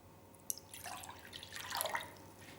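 Quiet water pouring into mixing bowls for slime, a soft splashing stream that builds over a couple of seconds, opening with a small clink.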